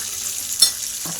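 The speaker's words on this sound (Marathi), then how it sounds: "तेल पण ठेवले तवर तापायला आणि जिरं टाकून घ्यायचं." Cumin seeds fry in hot oil, a steady close hiss of sizzling with a small crackle burst midway, heard on its own.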